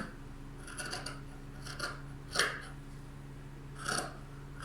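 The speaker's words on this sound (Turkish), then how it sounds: "şimdi ensemi kesiyorum." Scissors cut fabric at the back neckline of a balloon-sleeve tunic, giving four or five separate, close snips spaced over a few seconds in a quiet room.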